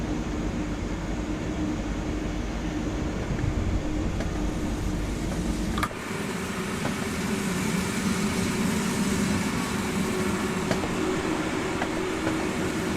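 Steady rumble of a train rolling along the Mittenwaldbahn in Train Sim World, heard from inside with faint rhythmic track-joint clicks under continuous running noise, no talking.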